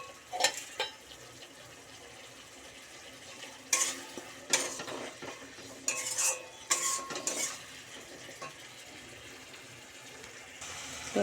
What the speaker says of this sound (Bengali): তো এটাকে ভালো করে এখন কষাবো